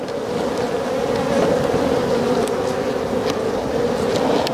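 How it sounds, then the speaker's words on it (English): Honey bees swarm around opened hive frames during a first hive inspection outdoors, producing a continuous, even buzzing hum close by, unbroken and without speech. "Find out the way, little bees."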